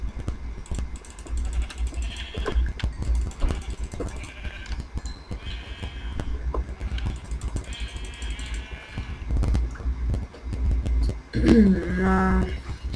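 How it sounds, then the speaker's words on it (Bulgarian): Sheep bleating in the Minecraft video game, heard near the end over a busy bed of game sounds, clicks and mechanical rattling, with a couple of short tonal bleats standing out. "Да, ето овце."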